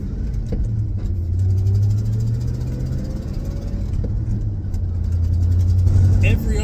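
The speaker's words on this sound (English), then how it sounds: "Now when you're towing, engine braking is huge in this truck" Ford F-series pickup truck engine braking while towing: a steady low engine drone with rumbling road noise, continuous and fairly close throughout.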